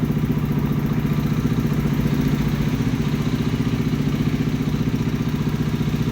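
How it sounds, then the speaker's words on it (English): A motorcycle engine, newly fitted with a replacement starter relay, runs at a steady idle with a rapid, even low-pitched thrum and slight mechanical clatter, close and continuous. "disable the kill switch and push the starter button"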